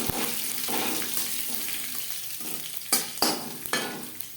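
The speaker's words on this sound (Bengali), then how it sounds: "রসুন ভাজা হয়ে এসছে" Crushed garlic frying with black mustard seeds in oil in a pan over a low flame, giving a continuous close sizzle broken by stirring scrapes and a few sharp spoon knocks.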